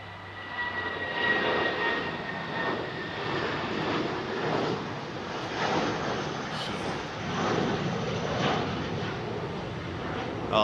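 A jet departing runway 27 right at Heathrow produces a steady, moderately distant engine roar with slight surges, continuous and unbroken, with little else over it.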